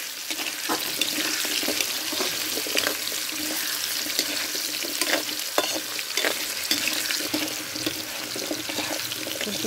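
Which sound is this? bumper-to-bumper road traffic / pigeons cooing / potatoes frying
potatoes frying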